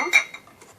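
Metal spoon clinking and scraping against a pot while stirring powdered gelatin into hot sugar and glucose syrup, a few light taps and rubs, close and fairly quiet.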